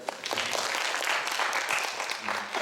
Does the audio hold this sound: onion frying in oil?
no